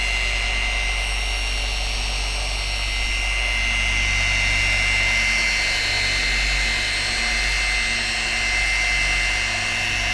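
Car polishing machine doing a finishing pass with gloss on a car's paintwork, a loud, steady close-up whirring hum that runs unbroken throughout with no talking.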